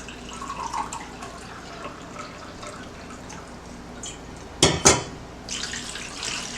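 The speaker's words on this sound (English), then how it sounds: "Mix in another cup" Cold water is poured into a bowl for a gelatin dessert, a soft, steady trickle near at hand with a brief, louder splash of liquid toward the end.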